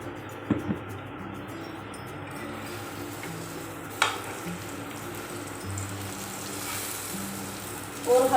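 A cheese paratha fries in oil on a pan, giving a soft, steady sizzle with a few light taps of the spatula and utensil knocks along the way.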